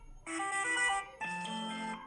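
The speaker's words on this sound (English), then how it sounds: "there we have to change your ringtone like this" An iPhone 16 ringtone plays as two bright, melodic tonal phrases, the second starting after a brief dip, clear and close with no talking over it.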